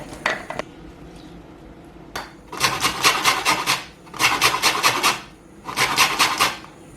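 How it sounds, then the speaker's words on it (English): Lemon and lime rind is grated for a keto mince pie filling, in three loud close bursts of quick rhythmic rasping strokes separated by short pauses. "You can see the rind of a lemon and a lime."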